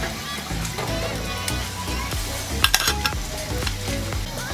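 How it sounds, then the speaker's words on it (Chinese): Food simmering in a pot over a medium flame at a campsite is stirred, with scraping and clinking utensil strokes over a continuous bubbling sizzle. "其实这个阶段你可以稍微先搅拌一下"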